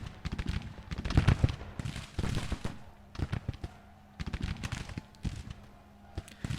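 Cannon artillery firing canister shot on a Civil War battlefield in Grand Tactician, heavy booms and rattling volleys arriving in several clustered bursts with brief quieter gaps between them.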